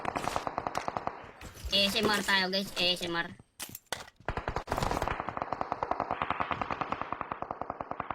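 Rapid automatic gunfire from a battle royale shooter game, likely PUBG, crackles in dense bursts with short gaps. Someone speaks over and between the volleys.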